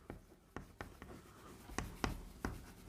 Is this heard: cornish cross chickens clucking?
no